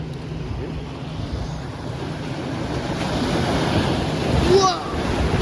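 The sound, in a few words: high tide waves crashing at Avon by the sea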